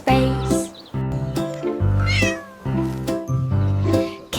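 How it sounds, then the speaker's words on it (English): A kitten meows repeatedly up close, a loud run of about five drawn-out, high cries in an uneven rhythm with brief gaps, with no other sound around them. "Kitten mewed a tiny call"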